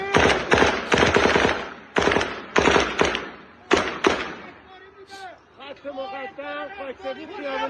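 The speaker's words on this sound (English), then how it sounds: "the regime forces are shooting" Rapid bursts of gunfire from regime forces shooting at people in Iran, loud rattling volleys in quick succession, followed by shouting and talking voices in the crowd.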